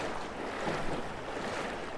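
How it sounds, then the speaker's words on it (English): Rough water on the upper Rappahannock River rushes past a fishing boat, a continuous churning wash with some wind rumble and no talking. "because this water is rough up here"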